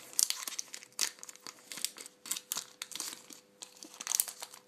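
A Pokémon XY booster pack wrapper is torn and crinkled open in a quick series of sharp foil crackles and rips, close and fairly loud, with no talking.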